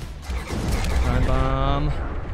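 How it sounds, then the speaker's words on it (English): Missiles and gunfire in the game Overload, a rumbling mix of launches and shots that builds after a quiet start and stays loud throughout, with a voice speaking over the combat. "there's way too many missiles flying around"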